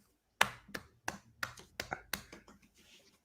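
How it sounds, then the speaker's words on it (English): About seven soft, sparse claps from a small group, spaced irregularly and fading out toward the end, in a quiet golf-clap style. "No, we do a golf clap."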